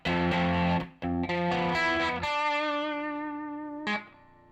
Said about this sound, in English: There's just a little solo that happens after a chorus leading into a verse.